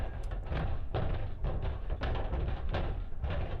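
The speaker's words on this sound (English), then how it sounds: "it is now moved to banging at the door, louder and louder the longer I dally" Something trapped inside a closet bangs and thrashes against the door, a run of loud, close, repeated thuds and knocks that keep going without a break.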